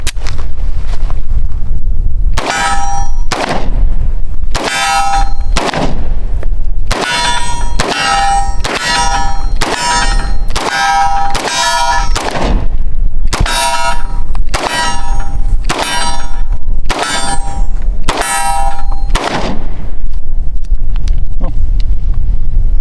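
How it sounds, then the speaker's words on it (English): Repeated shots from a SIG pistol at a firing range, a series of sharp, loud reports in uneven bursts, some doubled, spread across about twenty seconds with short gaps between groups. "I don't think I've ever actually shot a SIG before, so we'll see how this one goes."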